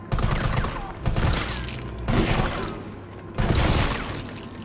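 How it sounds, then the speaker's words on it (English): Shotgun blasts ring out in the video game Resident Evil 3 Remake, four loud booming shots spaced about a second apart, each trailing off before the next. "Now let's go, we have a shotgun."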